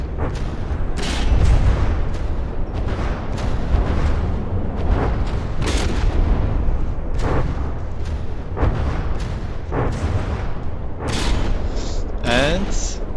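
Naval artillery thunders in a video game battle between a Longboat and a Dreadnought ship, with heavy booms repeating every second or so over a constant, loud rumbling din of gunfire.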